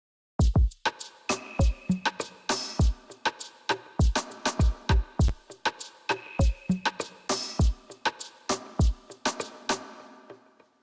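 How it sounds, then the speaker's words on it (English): A busy secondary soca drum pattern for a chorus plays alone, with sharp punchy kicks and snappy hits in a lively, syncopated, steady groove, close and crisp throughout. "I also added a secondary drum pattern for the chorus"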